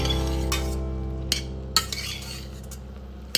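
A spoon stirs a thick fig filling in a pot, with a few soft scrapes and light clinks against the metal over a low steady hum, fairly quiet.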